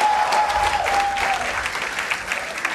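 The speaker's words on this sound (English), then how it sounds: "you can hear the crowd screaming for every milestone" A large crowd watching a SpaceX Starship rocket launch cheers and applauds in a loud, continuous roar of clapping and shouting that eases slightly toward the end.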